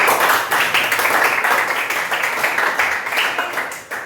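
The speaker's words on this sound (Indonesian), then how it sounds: "Oke, tepuk tangan ya." Students in a coding and artificial intelligence class applaud together, a loud, close, continuous wash of many clapping hands with slight rhythmic pulses, lasting the whole stretch and fading a little at the end.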